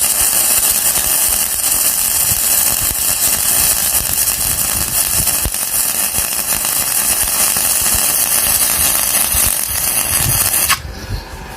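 Steady, loud crackling hiss of MIG welding with Vonder gasless flux-core wire at a low 35 amps, continuous for about eleven seconds before cutting off near the end, with no talking.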